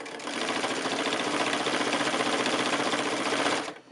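A sewing machine runs fast and steady, stitching binding around the curved corners of a quilt, with a dense rapid clatter that holds close and continuous before stopping abruptly.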